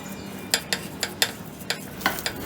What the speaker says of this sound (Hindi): बेसन अच्छे से मिक्स हो गया